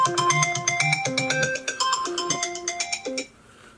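A phone ringtone plays a bright, repeating melodic tune, loud and close, alone with no talk, cutting off abruptly near the end.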